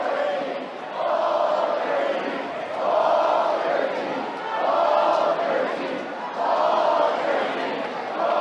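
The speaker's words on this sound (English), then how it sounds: "this Bluebell Park crowd keeps on going" A baseball crowd at Blue Bell Park during a Texas A&M game against Prairie View swells in repeated waves of cheering and rhythmic chanting, loud and sustained across the stands.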